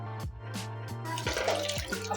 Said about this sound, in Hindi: 4 जग पानी डाल दिया इसके अंदर हमने